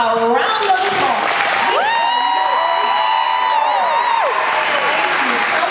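Applause and cheering for kindergarten graduates, clapping blended with voices, loud shouts and a sustained excited high-pitched cry from the crowd, all close and loud.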